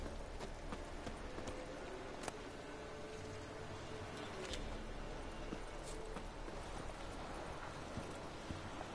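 Hooves clip-clop in a quick, steady galloping rhythm, fairly quiet over a faint rushing background.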